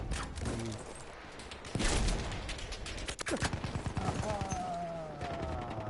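Battlefield 1 gameplay gunfire, loud bursts of rapid automatic shots and single cracks layered over busy in-game noise, with a voice talking among the shooting.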